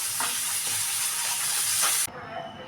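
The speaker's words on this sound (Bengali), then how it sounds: "তো এখানে দেখো মাছটা ভাজি করে নিচ্ছি" Fish frying hard in a home kitchen pan, a loud steady hiss of oil that runs unbroken for about two seconds, then cuts off abruptly to a quieter background.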